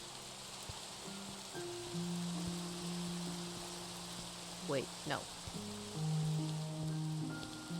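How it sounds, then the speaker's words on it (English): Steady rain hiss falls in a video game, soft and continuous beneath tonal game music, with a person speaking briefly over it. "It is raining."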